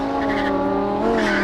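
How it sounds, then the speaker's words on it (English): A Lamborghini Huracan accelerates hard, its engine a loud, close, sustained roar with climbing harmonic whine and a tire-squeal edge, filling the whole moment without a pause. "The Huracan not only sounds like a race car, but it accelerates like one too."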